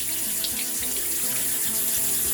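Tap water runs steadily into a sink while a brush is rinsed under it, a continuous close hissing splash with slight rhythmic variation and no speech.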